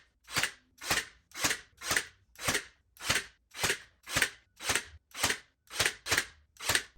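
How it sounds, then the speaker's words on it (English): A nail gun drives nails into the corners of IKEA ALEX drawers, firing about a dozen sharp, loud pops at a steady rhythm of roughly two per second, each one clear and separate from the next. "with my nail gun and I nailed in all of the corners just to reinforce them"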